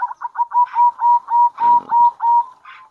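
Zebra dove (perkutut) breeding bird cooing close by, a rhythmic run of about ten short, even coos in quick succession, loud and clear with no talk.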